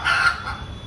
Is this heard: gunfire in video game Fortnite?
no